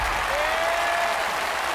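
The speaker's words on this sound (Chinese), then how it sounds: "把掌声给到米兰" Loud crowd applause rolls through an arena during a Chinese basketball game, a continuous, even roar of clapping with no voices on top.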